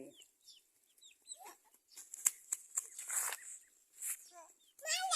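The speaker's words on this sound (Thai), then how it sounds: "เป็ดไก่" Ducks and chickens cluck and call in short bursts at a farm, fairly faint and scattered, with a louder cackle near the end and some voices in the background.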